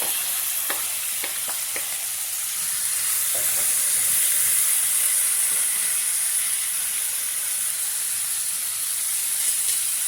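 Onions sautéing with salt in a pan for a quick chutney give off a steady, loud hiss and sizzle, with a few light stirring clicks near the start and no voices.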